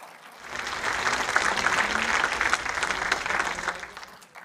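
Applause from an audience at an Indigenous Red Talks presentation session, a dense steady clapping that swells in after a moment, holds for several seconds, then tapers off, with no voices over it.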